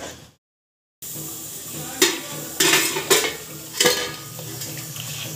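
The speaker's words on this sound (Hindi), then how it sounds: "इस मसाले को हम कम से कम 10-12 मिनट भूनेंगे ऑयल ऊपर आने तक" Masala for Punjabi mutton curry frying in oil while being stirred, a soft sizzle under intermittent scrapes and clanks of a spoon against the pan, after a brief silent gap at the start.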